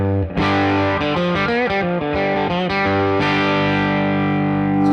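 Electric guitar pushed through an overdriven amplifier gives a thick, saturated distorted tone, with several sustained chords and bent notes ringing loud and continuous, and no voices.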